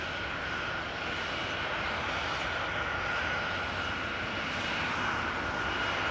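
An Embraer 190 narrow body starting a turn and burn takeoff roll at Amsterdam Schiphol, bound for London City, gives a steady, fairly distant broadband jet roar with a constant whine that holds level throughout, no voices.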